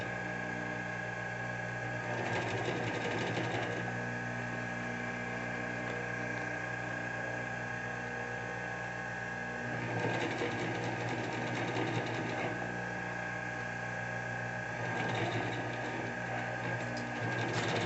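Sewing machine stitching seams on a waterproof travel case, running in steady whirring bursts with a constant motor hum in between, close and loud.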